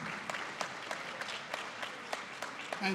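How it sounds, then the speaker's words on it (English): A crowd claps steadily at a staff luncheon, a dense patter of hands filling the room, with a brief voice rising near the end. "you can applaud"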